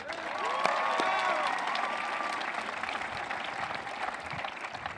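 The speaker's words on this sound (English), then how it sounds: "Let's give 2017 a round of applause." A crowd applauds the Parlier High School Class of 2017 at their graduation, a loud, dense burst of clapping with a few cheers and whistles that gradually thins over five seconds.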